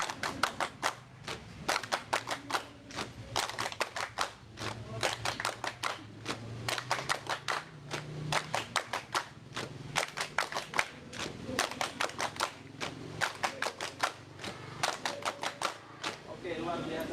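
A group plays a counting clap game at an ice-breaker training session, crisp rapid claps in repeated clusters with short pauses between rounds, a faint voice murmuring underneath throughout.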